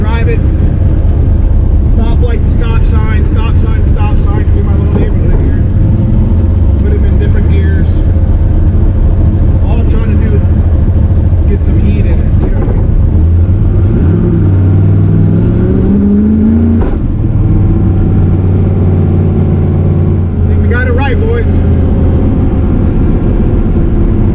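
A car engine warms up while the car is driven, with a low, steady drone and a few rising revs. Someone talks over it throughout.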